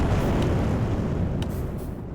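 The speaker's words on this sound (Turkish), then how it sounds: "Çok büyük patladılar bu arada." Meteors exploding in the god-game Simmiland, heard as a broad, rumbling blast with a few sharp crackling bursts, the roar slowly fading.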